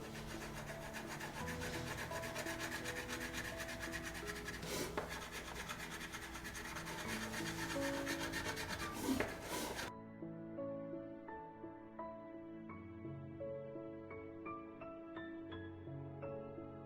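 Light yellow crayon rubbing across paper in steady, continuous scratchy strokes, close and fairly quiet, under soft background music.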